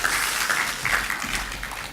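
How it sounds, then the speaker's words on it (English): Audience applause after a conference talk on ScalaCheck, a steady two-second wash of clapping at even loudness with no voices over it. "And I would like you all to give a very warm applause for his talk."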